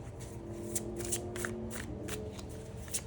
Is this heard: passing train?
no